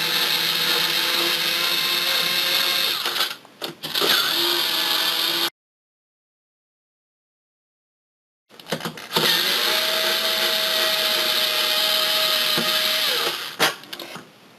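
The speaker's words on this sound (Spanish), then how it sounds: "nos hacemos con un destornillador eléctrico y lo haremos mucho más rápido" An electric screwdriver drives out the case screws of a PS3 80GB console in loud, sustained whirring bursts, with a brief stop partway and a silent gap before it spins up again.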